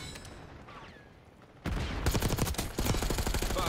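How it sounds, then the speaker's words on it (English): Rapid video-game gunfire erupts after a quiet stretch, a loud, dense burst of automatic shots that continues to the end, with a brief swell in intensity partway through. "Couple shots fired in the wrong direction"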